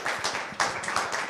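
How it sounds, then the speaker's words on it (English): Audience clapping for a performer after a live set, a short burst of brisk, moderately loud hand claps from a modest crowd, with no talk over it. "Everybody, please give a big round of applause"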